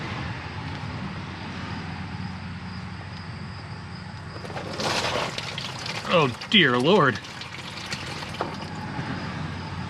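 Water drains out of the transmission of a 1929 Model A truck that sat unused for over 35 years, a close splashing pour partly under a voice.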